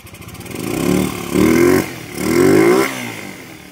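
A Rusi 150 motorcycle fitted with a 7.2mm camshaft revs up close by in three rising bursts, its engine note climbing and then dropping back to idle between each throttle blip.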